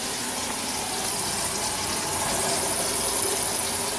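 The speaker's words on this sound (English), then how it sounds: "I have some water running in my sink." Tap water runs into a kitchen sink fitted with a garbage disposal, a steady broadband hiss and gush that stays constant throughout at close range.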